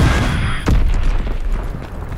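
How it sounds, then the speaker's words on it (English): An Azon bomb blast in Call of Duty: WW2, a deep booming explosion hitting suddenly after a brief lead-in and trailing into a long low rumble. "Dropping Azon bomb."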